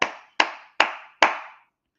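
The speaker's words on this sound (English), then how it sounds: "Jason Garrett clap." Four sharp, loud hand claps in a steady, evenly spaced rhythm, each with a brief ringing tail, done in the style of football coach Jason Garrett.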